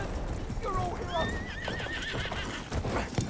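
A horse whinnies loudly and hooves clip-clop in Battlefield 1, the neigh rising and wavering near the middle, with gunfire-like thumps and someone talking over it.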